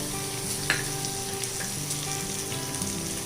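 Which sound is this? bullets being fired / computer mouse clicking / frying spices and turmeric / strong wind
frying spices and turmeric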